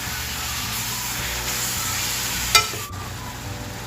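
Grated cassava mixture cooks with butter in a pan, a steady soft sizzle and hiss running throughout, broken by a sharp scrape or clatter of a utensil near the end.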